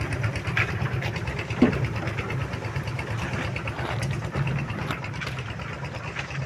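A construction machine's engine runs steadily at a road-building site during slope cutting and wall work, a continuous low rumbling drone with a few brief knocks, heard up close with no talking.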